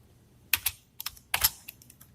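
Program code being typed on a computer keyboard, a few quick bursts of clicking keystrokes with short pauses between, close and clear with no talking.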